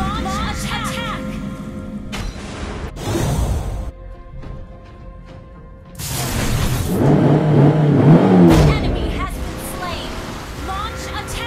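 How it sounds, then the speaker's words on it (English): Johnson's car launch attack in the mobile game Mobile Legends: whooshing, engine-like rushes and broadband impact bursts, loud and layered with other game effects and in-game character voice lines. "Installments of vehicular launch attack is a must."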